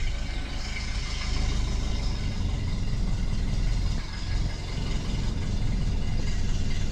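A 1930 Ford Model A engine idles steadily after a cold start, following months of sitting and a carburetor rebuild; a loud, close, continuous low rumble runs throughout with no talk.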